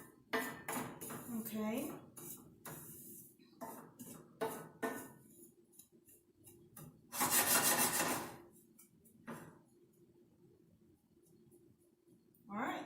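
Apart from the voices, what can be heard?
stirring artichoke stuffing toasting in a pan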